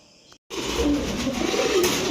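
Pigeons coo continuously in a dense, busy loft, low murmuring calls layered together after a brief moment of silence.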